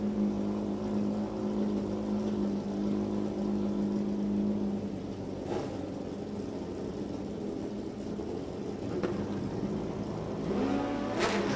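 Drag racing motorcycles, an 2008 Suzuki Hayabusa and a Kawasaki ZRX, idle and blip their engines at the line of an NHRA strip at Thunder Valley Motorsports Park, a steady rumbling drone with a few brief revs rising above it.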